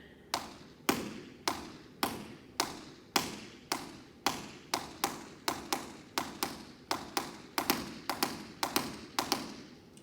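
Tap shoes struck on the front part of the tap in a steady run of sharp, close clicks, evenly paced at first and gradually quickening, each tap with a short thud.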